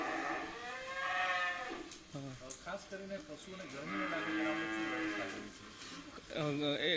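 Cows lowing in a cattle shed fitted with fans and mini sprinklers, long rising and falling moos following one another, loud and close, with some talk mixed in.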